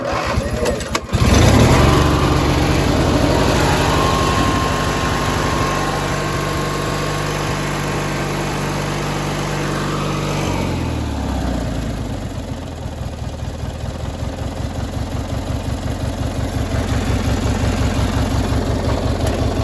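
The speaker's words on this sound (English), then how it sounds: "Engine sounds great." A 1995 Craftsman LT4000 lawn tractor's twin-cylinder engine cranks and catches, then settles into a steady, close idle with an even low throb that continues alone to the end.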